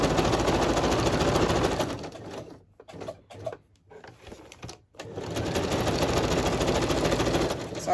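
A sewing machine runs in long continuous bursts while stitching a boho journal cover, with a quieter pause of near-stops and small clicks in the middle before the steady whirring resumes.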